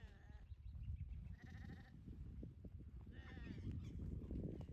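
Sheep bleat several times from nearby on a farm where horses are kept, the calls rising and wavering, interspersed with quieter shuffling and rustling in between; no clear talking is heard.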